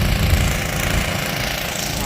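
A running tractor engine and an air compressor filling a tire on a farm, a loud, steady rumbling drone with a rapid mechanical chatter, continuous throughout, with someone talking over the noise.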